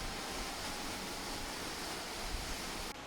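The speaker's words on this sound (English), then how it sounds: "And it seems we have the waterfall all for ourselves, at least for now." A waterfall in Portugal roars as a dense, even wash of falling water, continuous and close, with no voices over it.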